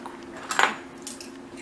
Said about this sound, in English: Tap it into the bowl, not over the side.